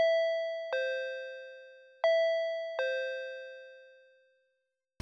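A two-tone doorbell chimes for an Amazon delivery, ringing ding-dong twice with clear ringing tones that fade into silence, followed by a brief rustle at the end.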